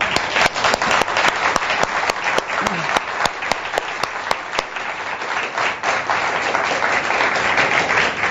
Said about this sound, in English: So I would like to ask you for a big clap